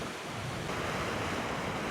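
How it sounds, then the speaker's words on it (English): Ocean surf and heavy swell surge through a channel at a rocky sandstone point on the Pacific coast, a steady, loud broadband roar of churning water with wind noise over the microphone and no speech. "giant heaves of ocean swell pulse in and out"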